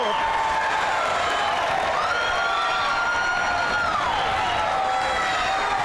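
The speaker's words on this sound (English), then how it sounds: "The crowd sure loved it." A pool hall crowd at the Mosconi Cup cheers and applauds a fine shot, producing a steady wash of clapping and whoops. A commentator's voice is heard over it.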